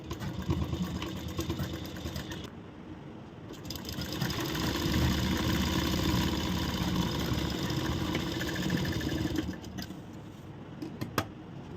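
A sewing machine runs steadily for several seconds, stitching part of a corset blouse, its motor hum and rapid needle clatter sounding up close before it slows and stops.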